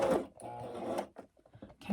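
A sewing machine stitches a quilted, padded tablet bag toward the edge in short bursts of rapid mechanical whirring, pausing briefly between runs, close and moderately quiet.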